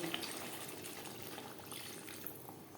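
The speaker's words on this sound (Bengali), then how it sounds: "এবার দিয়ে দেব জল" Water poured into a pan of tilapia fish curry with potatoes, a steady, close splashing gush that runs continuously and evenly throughout without any voices.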